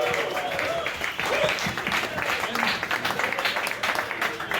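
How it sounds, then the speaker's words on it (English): Crowd applause at a campaign event, with clapping, scattered cheers and a few voices mixed in throughout, steady and fairly loud for several seconds. "So let's give yourselves a round of applause."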